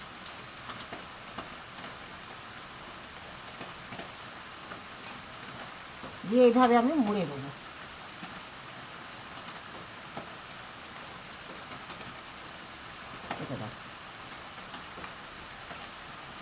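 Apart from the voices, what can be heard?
rain falling during monsoon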